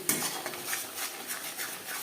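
Spices such as salt, chilli, cumin and coriander powder being stirred into a katla fish curry with potatoes in a pan, a soft scraping and clinking of a spoon against the metal, close and steady with no talk.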